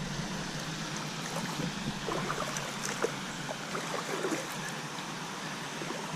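Water flowing and trickling in Parkerson Mill Creek in the woods at Auburn University, a steady close-up wash of babbling current with small splashes, continuous and without talk.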